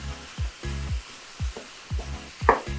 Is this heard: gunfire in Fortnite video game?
no